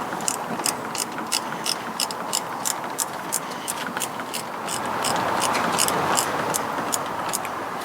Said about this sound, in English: let's see if I can get the ratchet on it now.